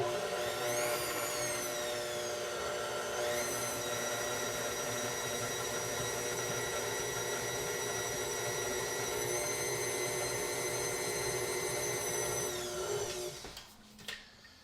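A blender runs steadily on meat pie filling, a loud continuous motor whir that rises as it spins up, holds for about twelve seconds, then cuts off and winds down.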